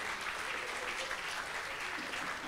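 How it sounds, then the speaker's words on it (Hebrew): Steady, dense applause from an audience at a religious lecture, a continuous wash of many hands clapping at even, fairly loud level throughout. "מגיע למחיאות כפיים"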